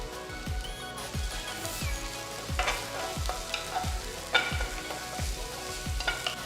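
Vegetables including garlic, ginger, onion and chopped capsicum sizzling and frying in a pan for veg fried rice, with repeated rhythmic scrapes of a spatula stirring them, close and steady throughout.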